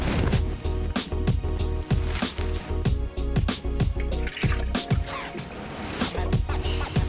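Water splashes and trickles into a bowl, with clattering knocks and bumps throughout; no speech.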